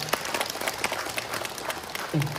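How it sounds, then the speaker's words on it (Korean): Audience clapping for an instructor at a safety and job training session for a senior citizens' association, a dense patter of hands from a hall crowd, with a low voice briefly rising near the end. "김철호 담당자님께 다시 한번 큰 박수 부탁드립니다."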